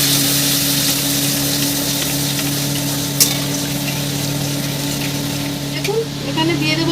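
Dahi paneer cooks in a pan, giving a steady sizzle with a low continuous hum and a couple of faint scrapes from stirring.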